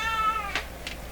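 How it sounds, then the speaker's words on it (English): A pet cat gives one drawn-out meow at close range, followed by a couple of faint, short rustles. No one speaks. "I'm gonna have to stop in a moment and go pet my cat."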